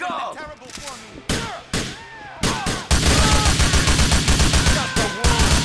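Gunfire in the PC game GTA IV, with rapid bursts of loud shots and sustained automatic fire up close, interrupted by shouting voices and explosive thuds.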